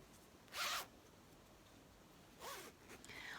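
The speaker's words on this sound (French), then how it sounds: "la fermeture éclair" Zipper sewn into trousers is pulled in two quick zips, the first a crisp burst and the second a longer slide with a short tug after, close and clear against quiet room tone.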